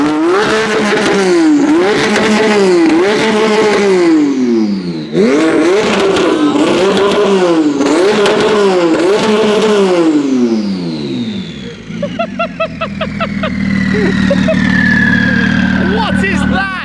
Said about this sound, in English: So if you're ready to hear one very, very noisy TT3 RS, that is coming up right about now.